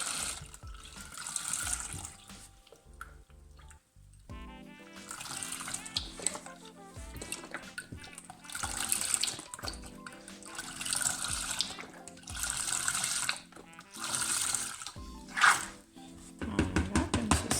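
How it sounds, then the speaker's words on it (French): A litre of milk poured for homemade yoghurt, heard as a series of splashing, gurgling liquid bursts separated by short pauses, close by and moderately loud. "je refile mon litre de lait."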